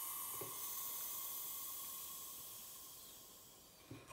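Steam hisses steadily and loudly as a pressure cooker valve is turned open, a continuous broad rush that slowly eases over several seconds, with faint clunks at the start and end.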